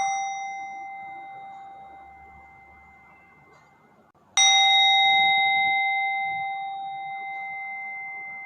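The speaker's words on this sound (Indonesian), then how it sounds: "Mari kita mendengarkan lonceng kesadaran dengan penuh konsentrasi." Mindfulness bell rung twice in a Buddhist Dharma lesson: a clear metallic strike with a long, slowly fading ring, then a second louder strike that resonates on, with no talk.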